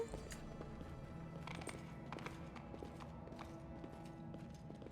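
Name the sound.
horse hooves clip-clopping in the video game Wrath of the Righteous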